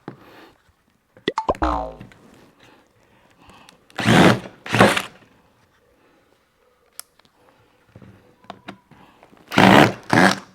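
A power drill bores into wood during campervan woodworking, a few short loud bursts of whirring spaced several seconds apart, with quieter handling clicks in between.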